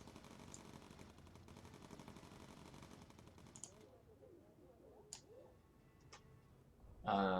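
The ventral turret gun of a Lancaster bomber in Bomber Crew fires rapid rattling bursts over a low rumble, then trails off into a few isolated sharp cracks and a loud final blast.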